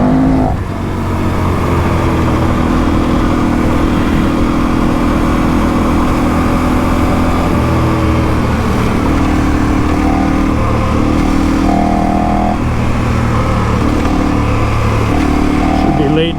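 A KTM 1090 Adventure motorcycle rides steadily on roads heading toward gravel, its engine drone continuous and loud with wind rush and small shifts in pitch, while a rider's voice talks over it.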